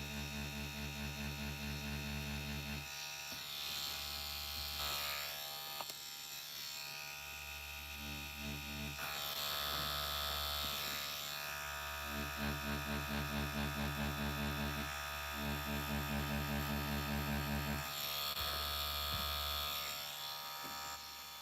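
A Bronc X2 Neo tattoo machine buzzes while tattooing skin, a steady electric hum that runs in several long bursts separated by short pauses, fairly quiet and alone.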